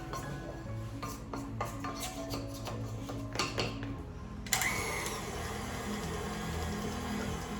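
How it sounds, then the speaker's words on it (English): A small wooden scraper scrapes the sides of a mixing bowl of cookie dough, giving a series of close, rhythmic scraping strokes, followed by a steady mixing noise. "Get my little wooden scraper. Scrape the sides a little bit."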